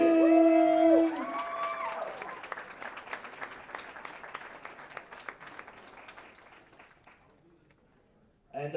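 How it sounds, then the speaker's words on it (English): An audience at a classic powerlifting competition applauds a junior women's bronze medalist, with a voice briefly over the start before sustained clapping gradually fades out. "give me a big round of applause for Erica King"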